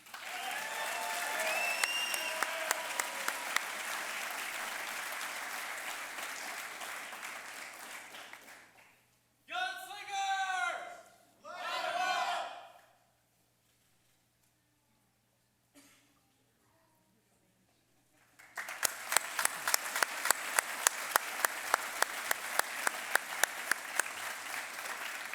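Audience applause for graduates at a military warrant officer graduation, a steady round of clapping in a large hall that drops away, leaves a few quiet seconds with brief speech, then swells again into a second full round.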